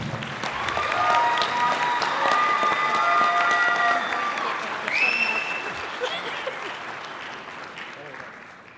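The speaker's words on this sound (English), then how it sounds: "Let's everyone give her a big round of applause," An audience at a community celebration claps loudly and steadily for several seconds, with some cheering and whistles over the applause before it fades out.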